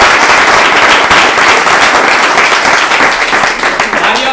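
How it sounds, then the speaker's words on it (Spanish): Sustained, dense applause from an audience at a farewell event, loud and steady throughout with crisp individual claps and no pauses. "Así que otro fuerte aplauso para ti"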